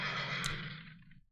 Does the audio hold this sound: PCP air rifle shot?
no